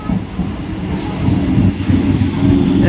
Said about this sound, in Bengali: তো আমাদের ট্রেন ঢুকছে হাসনাবাদ লোকাল শিয়ালদা থেকে ছেড়ে আসছে